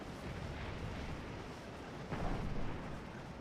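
Artillery cannon fire in the Civil War strategy game Scourge of War: Antietam, a low rumbling roar with one sharper boom rising near the end.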